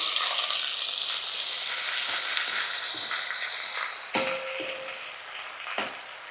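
Onion dropped into hot oil with whole spices on reduced heat for chicken pulao: a loud, steady sizzle and crackle close by, with occasional stirring knocks and no talk.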